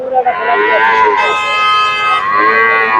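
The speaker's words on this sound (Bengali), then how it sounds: "দেখেন কতগুলো বোকনা" Heifers moo loudly and close by at a busy cattle market in Bogura, Bangladesh, two long drawn-out calls overlapping, with people talking underneath.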